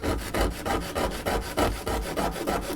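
Small wood-turning pieces get their ends sanded by hand in a steady back-and-forth rhythm. Close, even scraping strokes come about four times a second, with no talk.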